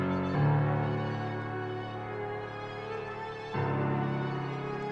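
A dark, low bassline sample pitched down one semitone, a melodic loop with sustained tones, which drops in and then restarts about three seconds later, steady and fairly loud.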